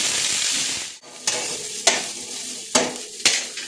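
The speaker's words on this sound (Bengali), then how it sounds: "এবার আমি গ্যাসের মধ্যে কড়াই চাপিয়ে দিয়েছি এবং এখানে তেলটা জোরেই রাখবো, ফুল ফ্লেমে একটু বার নেড়ে নেব।" Vegetables being stirred in hot oil in a kadai over a full flame, giving a steady close sizzle with a few sharp scraping strokes of the spoon against the pan.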